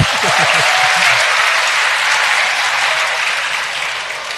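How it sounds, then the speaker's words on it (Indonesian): An audience at an Islamic religious study gathering breaks into loud, dense applause close by, with a brief voice at the start, then the clapping gradually tapers off. "Tepuk tangan lagi biar tambah semangat"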